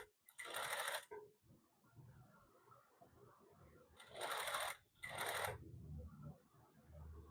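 A sewing machine stitching the hem of a men's suit, running in three loud whirring bursts of about a second each against a quieter background of handling noise.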